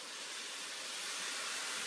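Sausage sizzles loudly in a hot pan as liquid is added to deglaze for sausage and leek soup, a dense, steady, close hiss that holds unbroken throughout.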